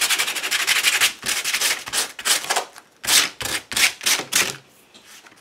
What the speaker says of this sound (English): I'm bringing in a ratty piece of sandpaper, and I'm just going to go in here and rip this up a little bit